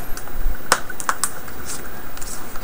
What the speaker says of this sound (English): now we can put the keyboard back.